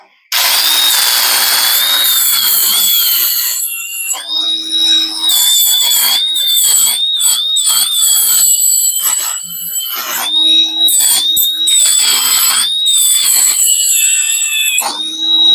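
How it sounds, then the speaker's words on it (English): A Hoof Boss electric trimmer cuts goat hooves with a loud, high, steady motor whine that dips briefly as the blade bites and eases off, running almost continuously and close up. "I use an electronic saw or a Dremel-ish type thing. It's called a Hoof Boss."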